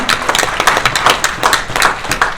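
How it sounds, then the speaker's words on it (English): A seminar audience claps in a lively, sustained round of applause, with many hands beating fast and fairly loud throughout. "let's keep that round of applause going for everybody who raised their hand"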